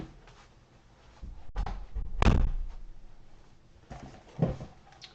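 A door is pushed shut indoors with a few muffled thumps and knocks, one heavier impact in the middle followed by softer bumps, fairly close and moderately loud.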